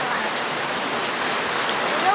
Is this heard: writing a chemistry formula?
no